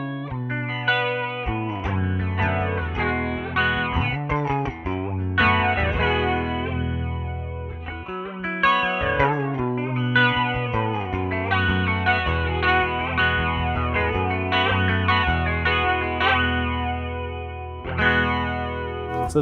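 Flanger pedal, the Alexander Pedals F.13 NEO in step mode, bends the pitch of a distorted electric guitar with the regen knob near center, giving a subtle swirling, warbling tone over continuous chords and riffs, loud and without talk.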